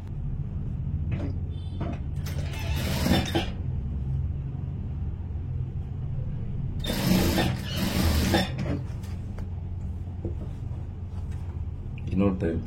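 A sewing machine stitches a blouse in two short bursts of whirring, standing out over a steady low room rumble between quieter pauses.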